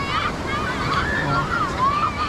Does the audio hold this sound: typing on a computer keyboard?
no